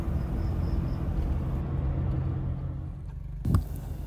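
Several jeeps crawl uphill in heavy traffic on the road to Mount Bromo, giving a steady low engine rumble close by, with a brief louder surge near the end.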